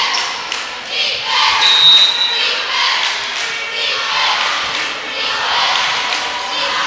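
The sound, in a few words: Queens Grant basketball fans chanting a cheer beat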